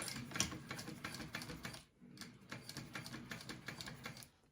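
A sewing machine stitches a wallet, running in a fast, even mechanical rattle up close, pausing briefly midway before starting again and then trailing off.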